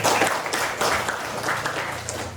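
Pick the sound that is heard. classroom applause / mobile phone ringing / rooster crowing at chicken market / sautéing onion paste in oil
classroom applause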